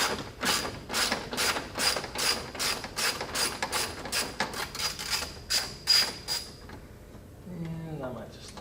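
A socket ratchet backing out grille bolts on a 2017-or-later Ford F-150 Raptor, a steady run of sharp rhythmic clicks up close, then stopping before a brief voice.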